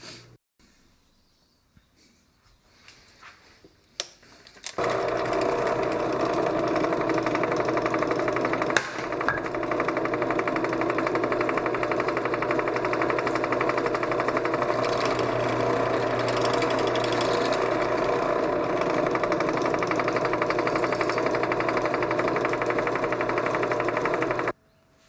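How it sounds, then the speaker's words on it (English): Thread tapping in a metal shop, a loud, steady mechanical whir and rattle that starts after about five seconds of near quiet, runs with no talk, then stops abruptly. "Doing some thread tapping, guys."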